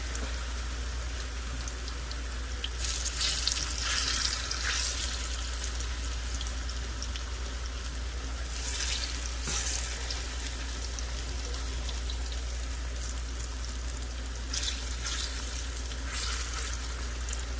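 Steady, continuous sizzling and crackling of pork chops browning in a hot pan, with brief louder bursts of spatter now and then.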